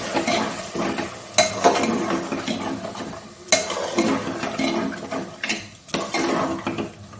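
Soaked dried peas are stirred and fried in a pan, with repeated close scraping strokes of a utensil over a steady sizzle, some strokes louder and clattering.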